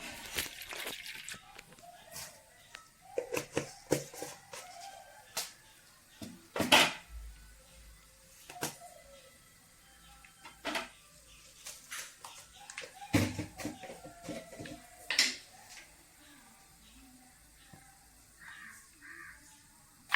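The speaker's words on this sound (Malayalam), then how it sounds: "നമ്മുടെ കടുക് പൊട്ടി വന്നിട്ടുണ്ട്" A spoonful of mustard seeds splutters in hot coconut oil while fish curry is being made, giving scattered sharp pops and crackles at irregular intervals, close and fairly loud.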